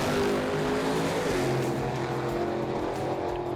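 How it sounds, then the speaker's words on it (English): A triple Weber carbureted Hemi 6 in an Australian muscle car runs with a steady, droning six-cylinder engine note at moderate distance, holding an even tone throughout with no talking. "The triple Weber Hemi 6 remains one of the greatest engines ever fitted to an Australian production car, and the sound alone was unlike anything else on the road."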